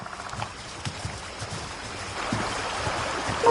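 Creek water flowing over rocks, a soft burbling trickle with small splashy pulses, fairly faint and steady, growing slightly fuller toward the end.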